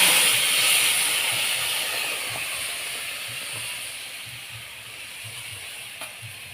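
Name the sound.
ingredients added to hot mustard oil in a wok, hissing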